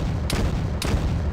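Autocannon fire in the ARMA 3 Warhammer 40k mod, three heavy booming shots spaced about half a second apart over a dense rumbling background, loud and close.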